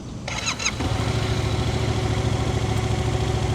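A Yamaha MT-07 motorcycle engine cranks with a brief whirr, catches, and settles into a steady, throbbing idle close by.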